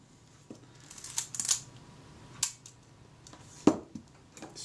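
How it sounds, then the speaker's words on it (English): Shutter release and film advance on a Kodak Retina IIIc camera, a few sharp, close mechanical clicks and snaps spaced apart in near silence. "the film advance is not being released at the same time the shutter is being released"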